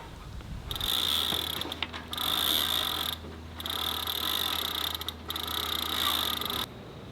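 A stubborn cotter pin is worked loose with a metal tool, heard as four sustained bursts of rapid ratcheting clicks separated by short pauses, close and fairly loud with no speech.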